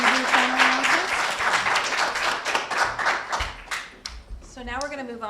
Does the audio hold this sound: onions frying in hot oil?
no